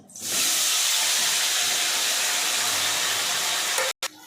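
Homegrown eggplant pieces drop into hot oil left from frying hilsa fish, with black cumin seeds, and burst into a loud, sustained sizzling hiss that fills the whole stretch before cutting off briefly near the end.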